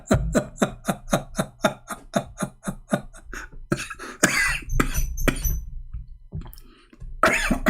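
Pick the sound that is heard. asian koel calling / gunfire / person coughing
person coughing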